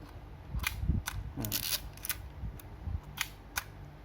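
A Canon Canonet film camera's leaf shutter fires at fast speeds, giving several sharp, quiet clicks spread across the span, with someone speaking softly in Thai in between.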